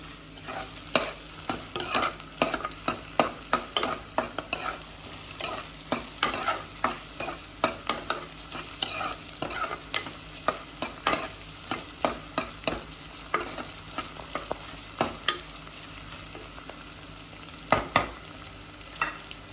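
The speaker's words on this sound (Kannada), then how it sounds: "ಈರುಳ್ಳಿ ಸ್ವಲ್ಪ ಗೋಲ್ಡನ್ ಬ್ರೌನ್ ಆಗೋ ತನಕ ಫ್ರೈ ಮಾಡ್ಕೊಳ್ಳಿ" Onions fry in a pan toward golden brown, giving a continuous close sizzle with frequent sharp clicks and scrapes from stirring, no voices.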